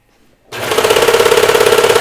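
A sewing machine stitches the underarm seams of cardigan sleeves, starting abruptly after a brief quiet moment and then running in a steady, fast, close-up mechanical whir with an even stitching rhythm.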